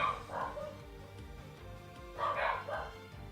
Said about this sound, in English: Jump cut because of dogs barking